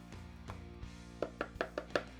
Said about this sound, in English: we are just gonna give that a nice little whisk so it's nice and combined